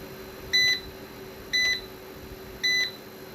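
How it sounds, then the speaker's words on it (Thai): A blue-and-white 5500 W hybrid inverter under repair sounds three identical short electronic warning beeps about a second apart at power-on, clear over a steady low hum. "เปิดเครื่อง มีเสียงเตือนแล้วนะครับ"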